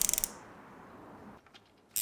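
A WERA Cyclops ratchet giving a quick run of sharp, close metallic clicks, then a quiet pause and a brief burst of clicking again at the end.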